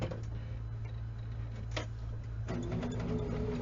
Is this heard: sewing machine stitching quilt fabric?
yes